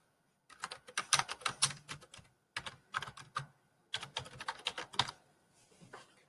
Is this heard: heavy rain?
no